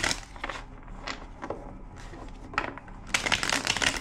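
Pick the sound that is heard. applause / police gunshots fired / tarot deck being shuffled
tarot deck being shuffled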